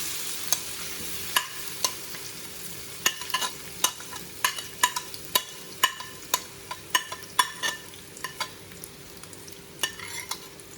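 Sliced plantain frying in a teaspoon of ghee in a hot pan, a soft sizzle under repeated sharp clinks and scrapes of a spoon stirring against the pan, close and steady in a quick irregular rhythm, no talking.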